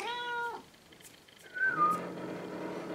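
A house cat meows twice up close: a strong harmonic call at the start, then after a short pause a thinner rising meow that fades into a steady low hum.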